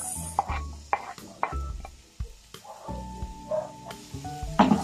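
Garlic and then onion go into hot oil in a pan, with a light sizzle under a series of sharp clanks and scrapes from a utensil against the pan, close and intermittent.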